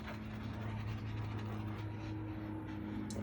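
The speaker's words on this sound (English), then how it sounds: "Listen to the airplanes fly over." Low, steady rumble of an airplane passing overhead, distant and unbroken for a few seconds with no voices.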